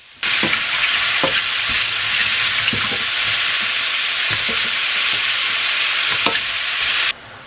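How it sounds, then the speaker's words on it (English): Mushrooms sauté in a hot pan with a loud, steady, close sizzle and occasional spatula knocks, until the frying noise stops abruptly near the end. "Now I'm going to add my mushrooms. And we're gonna saute these for 5 minutes."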